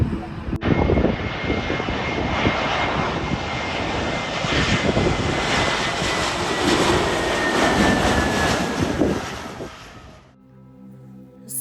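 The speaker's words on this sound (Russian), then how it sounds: "Сейчас будет садиться самолет." A passenger airplane landing at Madeira airport roars overhead, a loud broad jet-engine rush that builds, sustains and then fades away, heard from nearby outdoors before cutting off.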